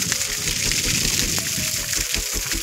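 Water gushing from a well as a 3 HP solar-powered pump runs on a farm, a continuous loud churning splash close by with no talk.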